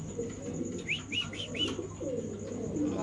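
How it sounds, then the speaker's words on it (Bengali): Rain-free ambience with a short series of four quick coos from a pair of pigeons for sale, fairly close over a low steady background hum. "এখানে আছে এক পেয়ার কবুতর"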